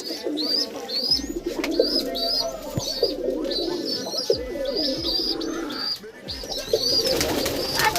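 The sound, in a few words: Giribaz pigeons cooing in their loft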